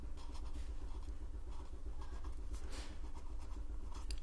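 Chalk or pen writing on a board during a class 10 maths lesson, a close, continuous scratchy stroking with short pauses between marks, and no voices.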